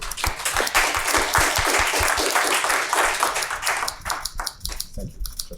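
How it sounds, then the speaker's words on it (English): An audience at a talk gives the two speakers a big, dense burst of applause with many hands clapping together, loud and sustained before thinning into scattered claps near the end. "So let's give them big applause"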